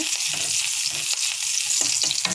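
Ginger, garlic and green chili frying in oil for momo filling, a loud continuous hissing sizzle with occasional stirring taps, close and steady with no talking.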